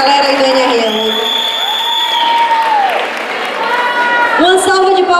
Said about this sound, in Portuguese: Uma salva de palmas pra galera aí do NRE8.